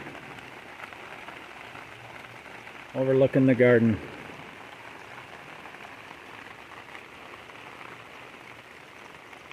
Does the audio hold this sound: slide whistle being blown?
no